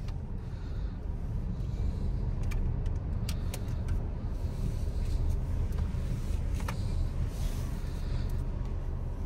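A car waits at the entrance gate of the Taj Mahal Palace Hotel in Mumbai during a security check, its engine giving a steady low idling rumble with a few faint clicks and no talk.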